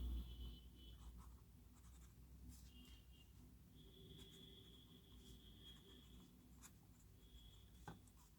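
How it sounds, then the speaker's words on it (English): A silver eye dropper fountain pen nib gliding across paper, soft scratchy strokes in short irregular bursts, very quiet and close, with no voices. "the pen writes very smoothly"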